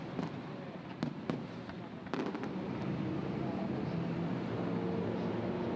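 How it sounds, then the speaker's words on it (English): Fireworks display at the Dubai Autodrome during a 24-hour endurance race, distant pops and crackling bursts scattered over a steady roar of crowd and ambient noise, with talk underneath. "tradition here to have the fireworks and another fantastic display here at the Dubai Autodrome"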